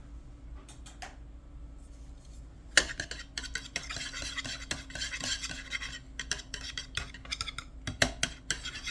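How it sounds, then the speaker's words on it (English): Four room-temperature eggs being whisked in a bowl, a steady run of quick clicking and scraping strokes, close and fairly quiet, with sharper taps partway through and no talking. "We're going to whisk our eggs before."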